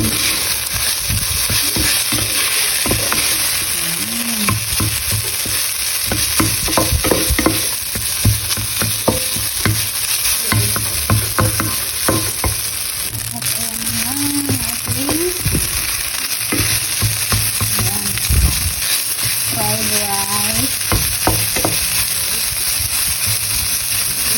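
Continuous loud sizzling in a frying pan after a splash of soy sauce, with frequent sharp scrapes and clicks of a spatula tossing the ingredients; no talking.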